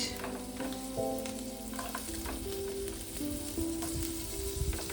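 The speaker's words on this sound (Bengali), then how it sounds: "তেলটা গরম হলে আমি দিয়ে দেবো একটা বড় পেঁয়াজ" A large onion frying in hot oil for soybean curry, heard as a fairly quiet, continuous crackling sizzle with occasional stirring taps and a faint tonal hum in the background.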